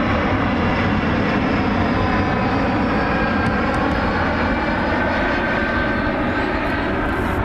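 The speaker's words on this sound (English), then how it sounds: "Here is the Delta connection flight out of Boston." A Delta Connection airliner flies over Cleveland Hopkins airport after departing Boston, its engine roar a loud, steady, broadband rumble that holds strong through the whole stretch without any voices.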